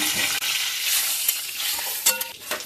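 Whole garam masala, bay leaves and cumin seeds sizzle in hot oil left from frying fish, a loud close crackling hiss with a few clinks of a spoon near the end.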